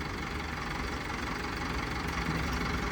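An Arjun 605 tractor engine, converted to four-wheel drive, runs steadily, a continuous low chugging rumble held at an even level throughout, close and fairly loud.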